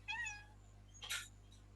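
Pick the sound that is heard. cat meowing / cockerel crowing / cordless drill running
cat meowing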